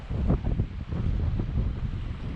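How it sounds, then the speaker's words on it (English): Cold wind buffets the microphone on a hiking trail at Glendalough, Ireland, a loud low rumble with gusts that rise and fall through the short stretch. "Man, wind is cold."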